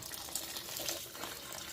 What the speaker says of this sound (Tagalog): then put hot water and then mix it up again.